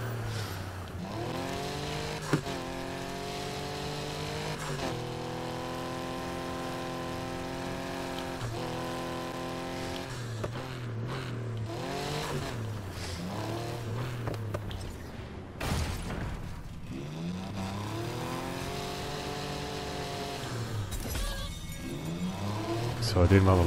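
Race car revving hard in Need for Speed Heat during a night chase, engine pitch climbing and dropping through repeated gear changes with occasional tire squeal, while someone talks over it.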